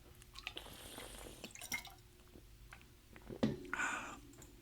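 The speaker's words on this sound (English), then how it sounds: "let me drink some water" Someone takes a drink of water partway through a podcast recording: soft liquid sips and small wet mouth sounds, a louder swallow or gulp near the end, close and fairly quiet, with no talking.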